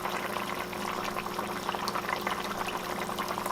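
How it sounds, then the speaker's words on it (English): Dark Guinness stew bubbling in a pot, a steady dense boil with crackling pops and gurgles throughout, close and moderately loud, with no voices. "we're going to bring it to a boil"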